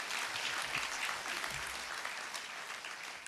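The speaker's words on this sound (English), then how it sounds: "You can clap now." Audience applause at a Singapore university business school postgraduate commencement, a steady even wash of many hands clapping for about three seconds, moderately distant with no talk.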